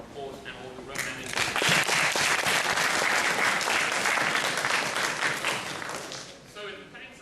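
An audience at a debating championship final bursts into sustained applause, a dense wash of many hands clapping that swells quickly, holds for several seconds and tapers off, with a voice audible at the edges.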